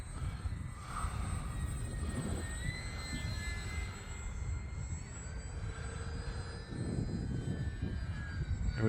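Radio-controlled Bearcat model airplane making a pass into the wind, its engine a continuous whining drone that shifts pitch as it passes by at moderate distance.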